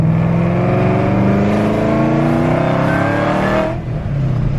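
Ford Shelby GT500 running on E85 fuel accelerates hard in third gear, a loud, close engine roar with rising harmonic pitch that drops off briefly near the end as the throttle eases.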